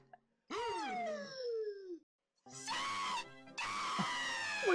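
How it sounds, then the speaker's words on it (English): A man screams into a microphone in three loud, strained bursts, the first sliding down in pitch and the later two harsher and more sustained, with short silent gaps between them. "he's just screaming into the mic at this point"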